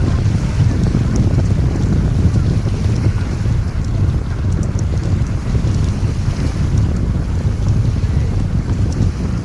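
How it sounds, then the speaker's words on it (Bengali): Motor vessel MV Umesh of Loknath Travels cruising through the Sundarbans toward Pakhiralaya, its engine a steady, loud low rumble with constant wind buffeting the microphone and no talking. "লোকনাথ ট্রাভেলসের এমভি উমেশ আমাদের নিয়ে চলেছে পাখিরালয়ের দিকে।"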